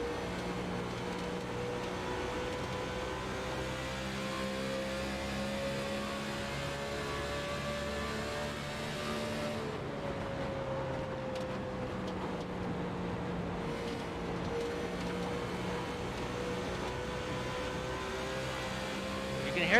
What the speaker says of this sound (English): I want you guys to listen to the engine and watch the steering.